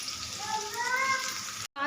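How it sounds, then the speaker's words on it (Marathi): Chopped onion goes into hot, well-heated oil with spices for a dhaba-style shahi paneer masala, giving a steady close sizzle and frying hiss that runs continuously and cuts off briefly near the end. "चला तर मग आता कांदा टाकून परतून घेऊया आपण"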